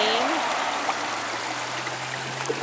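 A backyard garden stream and waterfall by a koi pond flows in a steady, close rushing wash, with a low hum running underneath and no one speaking.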